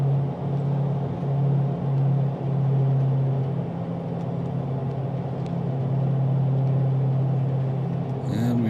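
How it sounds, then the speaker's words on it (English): Airliner engines in Microsoft Flight Simulator 2020 spool up as the throttles advance for a takeoff roll at Lake Tahoe, producing a steady, loud low drone with a strong hum that holds without a break. "Okay, we're slowly advancing the throttles."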